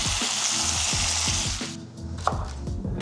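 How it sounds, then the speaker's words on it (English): Chicken fries in a pan with a loud, close sizzle that softens midway, followed by a brief clink of a utensil against the pan. "Listen to that sizzle."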